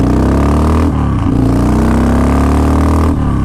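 A 2005 Harley-Davidson Wide Glide motorcycle on a test ride accelerates hard, its loud V-twin engine rising in pitch, dropping briefly at a gear shift, then climbing again up close.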